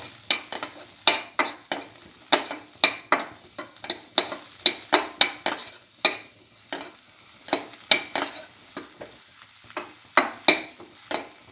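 Spoon stirring cinnamon powder into pumpkin milk in a pot, a steady run of quick scraping strokes and clinks, close and fairly loud with no talking.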